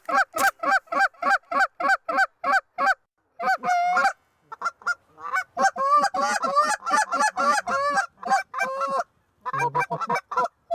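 A large flock of geese honks during a goose hunt over Ontario fields. The calls are loud, close and repeated, first in a steady rhythmic series and then in a dense, overlapping chorus with brief pauses.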